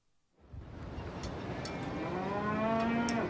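Cattle moo in a long, drawn-out low call that swells and holds, rising over a steady background rumble, with sheep faint nearby, aboard a ferry bound for Chiloé.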